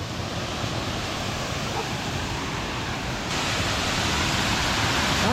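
Strong rushing water at Maganda Falls, a waterfall in San Jose del Monte, Bulacan, pours in a steady, dense roar that swells slightly louder partway through, with no one speaking.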